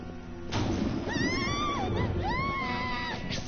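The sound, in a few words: scream heard in video game Persona 5 Royal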